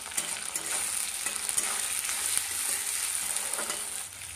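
Onion and chopped tomato frying in a pan, a close, bright, crackling sizzle that stays steady throughout with occasional stirring scrapes and no talking.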